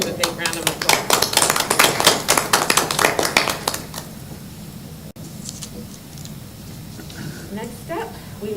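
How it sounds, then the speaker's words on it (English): Applause for a presenter at a board meeting: a burst of clapping for about four seconds, fairly close and loud, then it fades out into quiet room noise with scattered small sounds. "give him a big round of applause"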